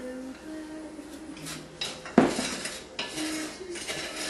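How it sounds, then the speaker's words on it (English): A wooden spoon scrapes and knocks against a pan of sugar on a stove over medium-high heat, giving a string of close clinks and scrapes with one sharp louder knock in the middle. "I'm going to take my cup of sugar and I'm going to put it in my pan."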